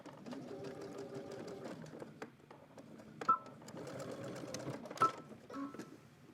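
A sewing machine bastes a seam on fabric with its stitching whirring in short bursts, stopping and restarting several times. Soft, close mechanical chatter fills the pauses.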